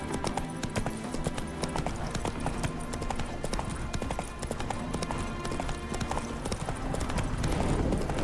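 Roach, the horse in The Witcher 3, trots with a steady rhythmic clip-clop of hooves on the ground and gives a neigh near the end, all close and clear under a quiet game backdrop.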